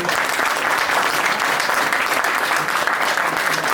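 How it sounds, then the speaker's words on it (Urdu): A crowd at a Pakistan Muslim League (N) workers' convention in Lahore claps in sustained, dense applause, loud and even throughout, with no voices standing out. "ان کے لیے بھرپور تالیاں"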